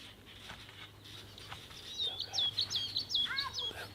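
Small birds chirp and trill in repeated high, thin phrases outdoors in Sweden, moderately close over a steady low background hum and faint ambient noise.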